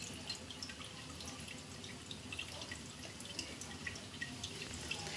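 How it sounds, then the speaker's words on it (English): Freshly blanched spinach drains in a kitchen, giving a faint, steady patter of water dripping and trickling close by with no one talking. "And I'm just going to draining the spinach."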